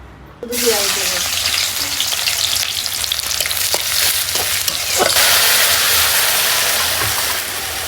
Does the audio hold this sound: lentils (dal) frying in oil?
yes